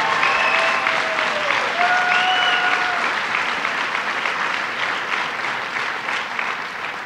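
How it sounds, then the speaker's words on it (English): An audience at a New York Stands with Puerto Rico breakfast for Governor Cuomo claps loudly in a dense, steady round of applause that fades slightly toward the end, with a few faint whistles over it. "Let's give them a round of applause."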